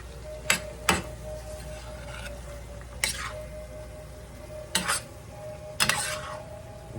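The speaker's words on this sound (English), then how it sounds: "I got it pretty well stirred up there" A spoon scrapes and clanks through cowboy pasta in a big skillet, several sharp metallic strokes spaced irregularly over a steady low simmering hum, close and fairly quiet.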